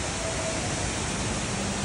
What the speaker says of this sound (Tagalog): Sarap dito sa glass bridge na may falls.